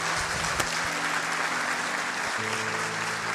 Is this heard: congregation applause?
yes